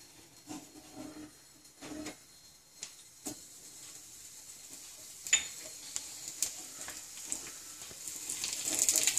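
Karivadagam, a sun-dried curry seasoning, is tempered in a spoonful of hot oil for mango sambar, with quiet stirring clicks giving way to a sizzle that swells near the end.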